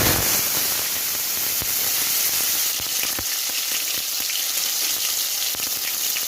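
Continuous crackling sizzle of cumin seeds frying in hot oil, steady and close, with scattered sharp pops and no talking.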